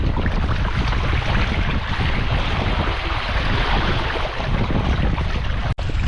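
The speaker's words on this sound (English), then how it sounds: "Getting good wind out here at the moment, and the current's pushing us along nicely." Strong wind roars steadily over the microphone on a sailing kayak crossing open water between islands, a loud continuous rush with water wash beneath and a brief dropout near the end.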